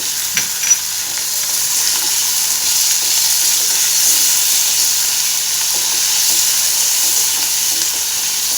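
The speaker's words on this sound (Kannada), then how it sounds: "ಒಂದು ಚಿಕ್ಕದಾದಂಥ ಟೊಮೊಟೊ ಸೇರಿಸ್ಕೊತಿದ್ದೀನಿ ಕಟ್ ಮಾಡಿ ಇಟ್ಕೊಂಡಿದ್ದು ಅದಕ್ಕೂ ಒಂದು ನಾಲ್ಕು ಪೀಸ್ ಗೋಡಂಬಿ" Chopped tomato and a few cashew pieces sizzle and fry in a hot pan, a loud, close, continuous hiss with faint stirring clicks near the start.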